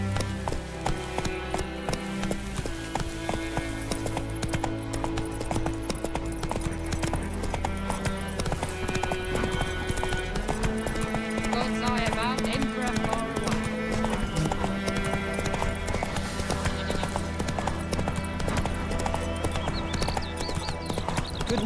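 Horse hooves clip-clop steadily in The Witcher 3, a continuous galloping rhythm set against layered orchestral game music and ambient sound throughout.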